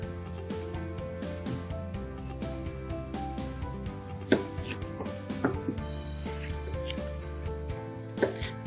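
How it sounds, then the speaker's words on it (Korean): A knife chops radish for kimchi on a cutting board in a quick, steady run of close, crisp knocks, with a few louder strikes, against a faint background hum and no talking. "저는 직경 1cm 정도의 무로 잘라보도록 하겠습니다"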